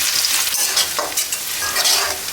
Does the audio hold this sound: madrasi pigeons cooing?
no